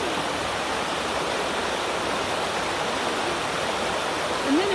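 Outdoors at a campsite, water splashing forms a steady, dense rushing wash like a stream, continuous and fairly loud, with a brief faint tonal sound near the end and no speech.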